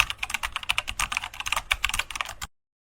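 Rapid typing on a computer keyboard, a quick close stream of light key clicks for a couple of seconds before stopping abruptly into silence.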